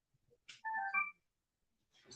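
A mobile phone rings briefly during a landlord-tenant hearing in a courtroom, a short, faint electronic melody of a few quick tones in an otherwise quiet room.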